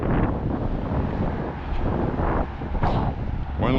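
Gusty wind pushes into a head-mounted camera microphone on a walk, a steady loud rumble with rising and falling gusts throughout.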